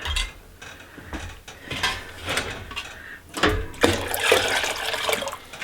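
Water runs into a canning pot in a home kitchen, a splashing, gurgling flow that comes in uneven surges and builds louder and fuller toward the end, with no talking.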